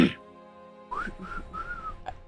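A person whistles a short, wavering tune of a few rising and held notes, quiet and close, after a brief burst of noise at the start.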